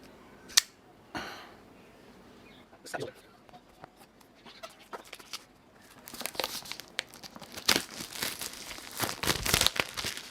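Scattered sharp scrapes and crinkles of plastic, then a denser stretch of a blade slicing and tearing the packaging of an 8BitDo Retro 18 mechanical number pad close up, with occasional quiet speech.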